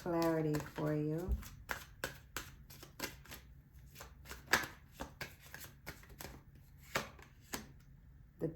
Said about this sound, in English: I'm going to pull a couple more cards for clarity for you.